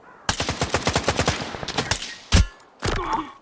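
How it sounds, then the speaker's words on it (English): Rapid automatic gunfire in S.T.A.L.K.E.R. 2, a quick run of loud, evenly spaced shots that thins out, then a single heavy blast and a short burst of noise after a brief gap. "Watch me completely miss this shot due to lag."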